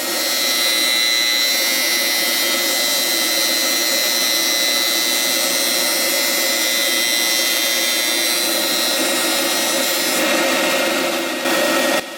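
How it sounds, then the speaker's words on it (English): Drum sander running walnut dining-table boards through, a loud steady roaring whine that holds level throughout, with a slight shift in tone near the end as the board exits. "I'm running the long boards, the main part of the table, through the drum sander"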